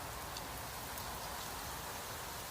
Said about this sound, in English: It's just started to rain.